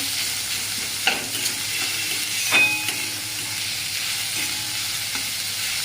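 Onion frying in a pan for a Maharashtrian sandge chutney gives a steady close sizzle and hiss, with a few scrapes and knocks of the spoon as it is stirred.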